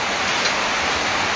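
Heavy rain falls on a foggy afternoon in Tacloban during a storm, a dense, steady hiss of downpour at constant loudness, close and continuous, with no speech.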